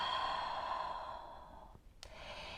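A slow exhaled breath during a vinyasa yoga flow, a long soft airy sigh close to the ear that fades out, followed by a brief sharp sniff.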